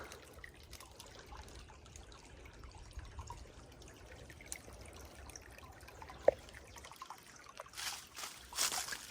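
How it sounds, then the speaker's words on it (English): Creek water trickling and cascading over rocks into a gravel pool outdoors, a steady low burble with scattered splashes and a louder gush near the end, heard alone. "Cascades down those rocks into essentially a gravel pool."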